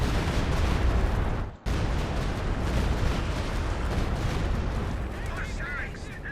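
Stuka rocket barrage in Company of Heroes 2 crashes down in a dense, continuous roar of heavy blasts and rumbling impacts, loud throughout, with a brief near-silent gap before the bombardment surges on.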